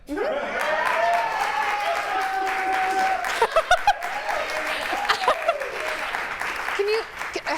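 Studio audience applause at a talk show fills the clip as a steady, loud wash of clapping with scattered chuckles and a voice or two mixed in, swelling in sharper bursts midway before tapering.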